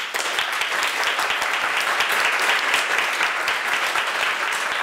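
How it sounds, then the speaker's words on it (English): Steady, loud applause from a sizable crowd at the end of a talk, dense clapping sustained throughout with no pause. "I'm applauding you guys"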